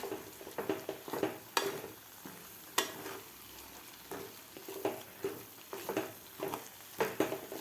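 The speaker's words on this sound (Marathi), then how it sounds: "आता व्यवस्थित आपल्याला हे मिक्स करून घ्यायचं आहे" Moong dal halwa mixture cooking in ghee with added milk being stirred to break up lumps, rhythmic scraping strokes against the pan over a soft, quiet sizzle.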